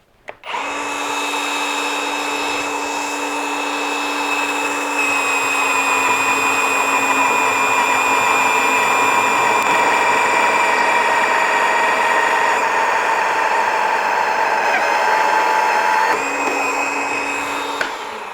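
A cordless 18V chip saw cutter cutting steel, giving a loud sustained high-pitched whine with strong steady tones. The pitch dips slightly as the blade bites, then it spins down after about 17 seconds. No one speaks.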